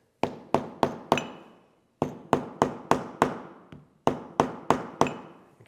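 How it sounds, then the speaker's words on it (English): A flat-face hammer strikes leather resting on a smooth marble slab in three quick runs of four to five sharp, ringing blows, each hit decaying briefly with pauses between the groups. "grab a chunk of marble over here, just a nice smooth surface, and then flat face hammer"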